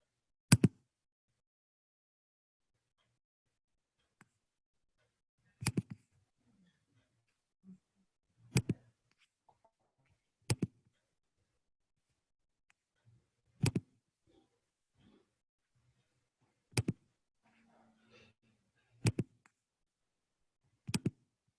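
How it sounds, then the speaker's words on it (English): Sharp isolated button clicks from a webinar host's device, about eight crisp snaps spaced irregularly a few seconds apart over near silence, close and fairly loud. "Sounds like you could hear all my buttons clicking, Bobby."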